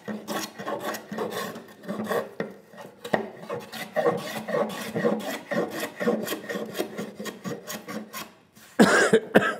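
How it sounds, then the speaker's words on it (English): A hand plane taking shallow, refining cuts along wood while building a workbench, heard as a close series of rhythmic rasping strokes, repeated back and forth, ending with a louder scrape. "then I back my iron off to where I'm taking a much shallower cut"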